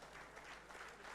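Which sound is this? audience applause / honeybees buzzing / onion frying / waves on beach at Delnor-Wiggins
audience applause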